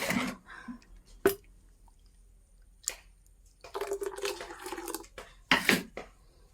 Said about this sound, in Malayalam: മിക്സിയുടെ ജാറ് കഴിഞ്ഞ് കുറച്ച് വെള്ളം കൂടെ ഒഴിച്ച് കൊടുക്കാം